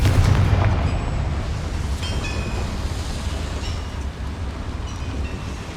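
A Confringo spell blast in Hogwarts Legacy, set in a goblin mine, lands as a heavy low boom that rolls into a long dense rumble fading slowly over several seconds.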